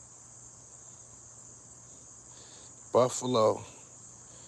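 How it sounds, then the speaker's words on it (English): Crickets chirp steadily outdoors on a nice day, a thin continuous high trill running through the whole stretch, with someone briefly speaking near the end over the insect chorus. "Y'all hear them crickets and shit?"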